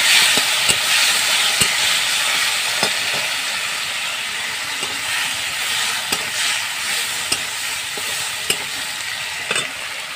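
Chopped tomatoes fry in a kadai wok for a vegetarian winter-vegetable khichuri, giving a steady, close sizzle with sharp stirring clicks now and then, and no talking.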